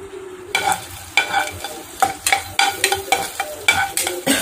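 Peanuts and roasted chana stirred and frying in sunflower oil in a pan, with a steady sizzle and repeated scraping stirs in an irregular rhythm, close and fairly loud with no talking.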